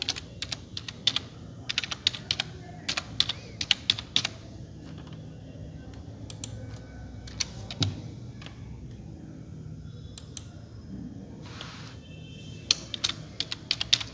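Someone types city names on a computer keyboard: quiet, close key clicks in irregular bursts and pauses, sometimes rapid runs, sometimes single taps, against a faint room hum.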